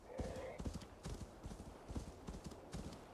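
Rapid rhythmic clip-clop of a horse's hooves while riding in the video game Assassin's Creed Valhalla, steady and close, with a brief whinny near the start.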